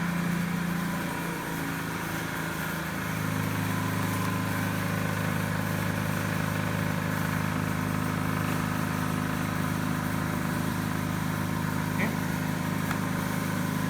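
A DC motor running at 1720 rpm in an electrical machines lab, a steady even hum with a whine that holds constant for the whole stretch, fairly close and continuous.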